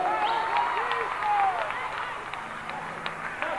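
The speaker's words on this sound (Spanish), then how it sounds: "¡El aplauso!" Concert audience applauds after a band thanks them, a steady wash of clapping with cheering and whistles over it, mid-distance, with voices audible through the crowd noise.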